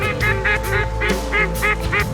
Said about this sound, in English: Here are birds everywhere. I've never seen anything like this.